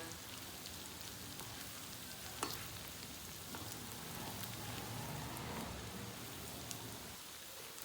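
Garlic frying in hot oil for a tadka over red bean curry gives a faint, steady sizzle and crackle with occasional small pops, with no one talking.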